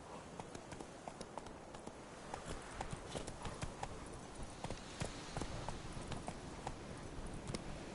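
Hooves of Roach, the horse in The Witcher 3 video game, running at a steady gallop, a continuous close rhythmic clip-clop thudding throughout.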